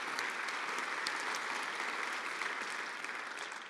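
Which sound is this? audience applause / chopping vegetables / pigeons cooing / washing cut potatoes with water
audience applause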